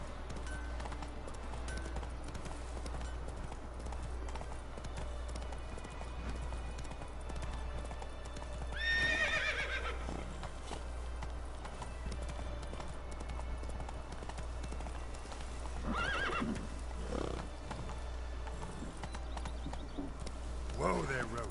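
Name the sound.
horse Roach neighing and trotting in video game Witcher 3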